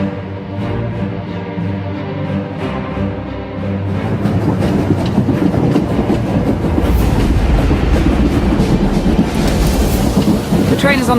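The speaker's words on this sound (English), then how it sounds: "The train is on the move, and the traitor's on board." Train in a Star Wars: The Old Republic game trailer, rumbling along with a steady low drone that swells into a louder clattering rush of wheels and rattling cars after a few seconds, continuous and close throughout.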